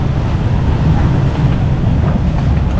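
A professional speedboat with four engines races across open sea near Malé in the Maldives, a loud continuous roar of wind, engine and rushing water with no pause.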